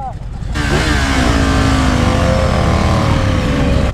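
Suzuki GSX and Yamaha R6 sport motorcycles accelerating hard in a street race, engines screaming loud and close with rising revs through gear changes after a brief quieter start.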